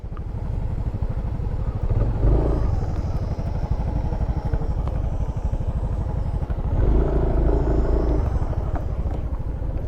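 A motorcycle rides toward Ocallong Falls in Luna, La Union, its engine a loud, close, steady drone with a rapid pulsing beat that swells briefly twice and carries a faint rattle, with no talk.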